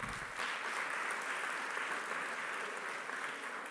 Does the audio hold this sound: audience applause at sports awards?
yes